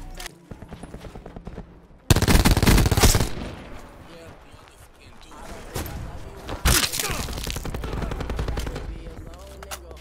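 Gunfire from Call of Duty Black Ops 4 Blackout erupts in loud rapid bursts and sustained automatic volleys, mixed with game sound and player talk.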